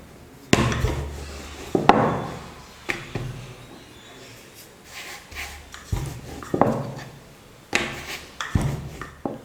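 Rolling pin working wheat-flour dough, chapati-style, for a potato snack: irregular wooden knocks and thuds on the board with soft rubbing between them, fairly close and clear.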